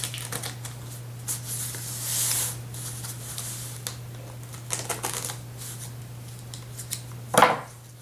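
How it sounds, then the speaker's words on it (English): Packing tape on heavy-duty cardboard comic book packaging is cut rather than ripped off, with scattered light snips and rustles over a low steady hum, then one louder, crisp cut near the end. "Don't want to rip this off, I want to cut it so I can reuse this cardboard if I need to."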